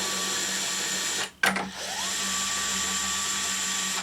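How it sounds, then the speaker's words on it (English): A stationary workshop belt sander runs steadily with a constant whine, then briefly dips and surges as a guitar saddle is pressed against the belt before the steady hum resumes, close and loud with no talk. "my stationary belt sander"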